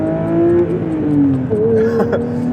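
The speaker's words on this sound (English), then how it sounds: "a motorsport derived 4-litre naturally aspirated flat six engine" A 2023 Porsche 911 GT3 (992) with a 4-litre naturally aspirated flat-six revving steadily, its tone dipping and then climbing through the gears, loud and close with a smooth, mechanical whine.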